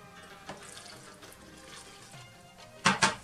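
Water is poured into dough in two short splashing bursts near the end, after quiet kitchen background.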